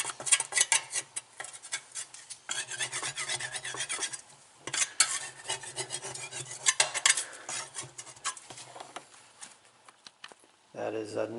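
Grime is scrubbed off a washing machine's center shaft with repeated close rasping strokes in short bursts, with a voice heard at times.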